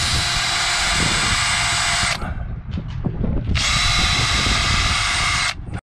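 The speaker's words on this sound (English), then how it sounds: "I'm just going to go in with the countersink head just to give it a nice edge." A power drill fitted with a countersink bit runs on board a Hallberg Rassy 54 sailing yacht during maintenance, in two loud, close, high-pitched bursts separated by a brief pause with faint handling noises.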